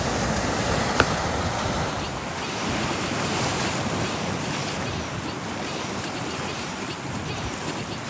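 A steady, broad wash of Lake Huron waves and surf rolls on continuously, mixed with gusty wind buffeting the microphone, near a harbor in Alpena.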